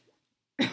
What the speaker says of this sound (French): En plus, je tousse.